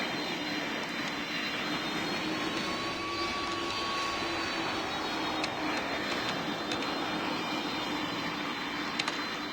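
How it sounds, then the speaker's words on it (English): A plane's engine drones steadily as the aircraft taxis to a stop in the Roblox PTFS flight game, a constant broadband roar with a faint tonal whine and no voices. "And now the aircraft is coming to a stop."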